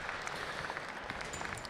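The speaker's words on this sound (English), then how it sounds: "Let's give them all a round of applause as they do go back." A showmanship audience gives a round of applause for class finalists, a brisk, steady patter of many hands clapping at moderate volume throughout the short stretch, with no speech over it.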